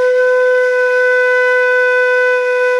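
A single flute note, fingered with the thumb and pointer finger, is held steady and clear for nearly three seconds, close and fairly loud, with no talking over it.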